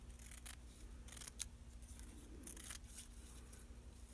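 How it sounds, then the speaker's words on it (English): Scissors snip through paper being trimmed for a handmade book, a few quiet, close cuts in short irregular bursts. "I'm going to trim off just a little bit of the bottom."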